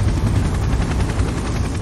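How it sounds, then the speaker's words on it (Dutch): Steady helicopter drone with a rhythmic low rotor thump as it circles overhead during a water rescue, fairly loud and continuous, no voices. "En al gauw cirkelde er een helikopter over ons heen."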